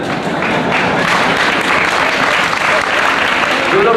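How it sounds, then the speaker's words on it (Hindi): An audience claps steadily and densely throughout a Hindi talk event, a close, continuous wash of applause that holds at full level from start to finish with a faint murmur of voices mixed in. "जो लोग ताली बजा रहे हैं"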